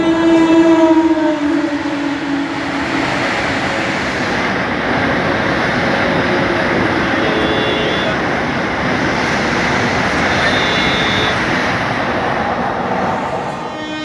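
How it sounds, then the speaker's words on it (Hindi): Heard from aboard a train, the Ajmer–Sealdah Express overtakes on the adjacent track with a steady broadband roar and rattle of carriages, loud and continuous for the whole stretch, with faint whistle-like tones at moments. "अजमेर सियालदह एक्सप्रेस हमको ओवरटेक कर रही है"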